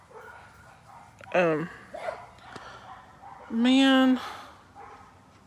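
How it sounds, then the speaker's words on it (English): Dogs barking outdoors, a couple of sharp barks and a longer howling bark standing out over light background noise, with someone speaking briefly. "I hear dogs barking"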